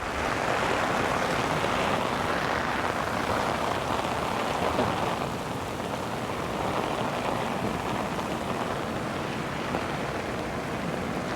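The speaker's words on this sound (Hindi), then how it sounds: "बिल्कुल ही टेढ़ी बारिश आ रही है यार" Heavy, slanting rain pours down in a dense, continuous hiss, loud and close, with no voices.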